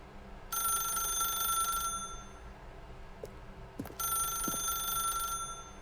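Old-style telephone bell from The Stanley Parable rings in two bursts of shrill, rapid trilling, each lasting over a second with a short pause between, clear and alone over a faint background hum.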